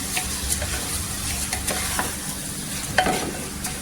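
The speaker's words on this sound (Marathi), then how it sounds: "इथे आपण जे तांदूळ आहे धुतलेले ते टाकायचं. छान असं तेलावर हे पण परतून घ्यायचं." Washed rice being stirred and sautéed in hot oil in a pan, with a steady close sizzle, scraping stirs and a louder clatter near the end, no talking.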